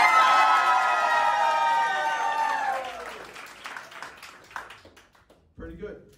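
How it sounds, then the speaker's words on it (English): Audience applause and cheering at a live snack review show, loud and dense at first, then thinning into scattered claps and voices before a brief burst near the end. "I need a huge round of applause"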